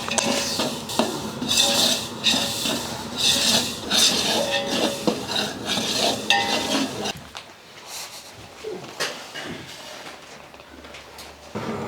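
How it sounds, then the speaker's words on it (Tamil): Semolina (rava) roasting in oil in a large pan for a big batch of rava kichadi, with a metal spoon scraping and clinking steadily against the pan, busy and close before quieting to sparser scrapes. "ரவை லைட்டாக சூடானதுக்கப்புறமா கொஞ்சமாக எண்ணெயை ஊற்றிட்டு இப்போ இதை வறுக்க ஆரம்பிச்சிடலாம்"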